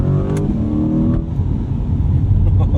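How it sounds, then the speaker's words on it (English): A 2020 Chevrolet Corvette Stingray engine roars loudly up close, its pitch climbing under throttle, with a sharp pop and a brief break at an upshift of its fast automatic. "They have that nice pop on the upshift"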